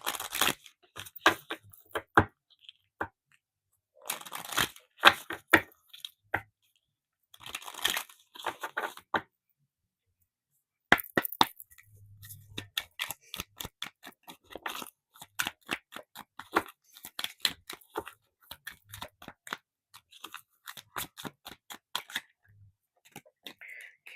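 Tarot cards are shuffled, snapped and drawn up close in quick bursts of dry paper flicks and crinkles, stopping and starting over roughly twenty seconds with brief quiet pauses.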